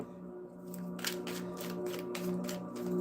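Repeated papery riffling bursts of cards being shuffled, fairly close, over a steady low hum with no talking.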